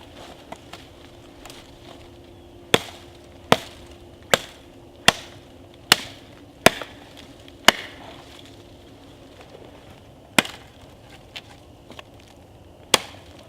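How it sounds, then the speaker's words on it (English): A sapling being chopped with a hatchet-type tool to sharpen it into a spear outdoors, a dozen sharp, crisp chops at irregular intervals, some in quick succession, close and clear with no talking. "Let's see if we can go ahead and put an edge on that sapling and make it useful."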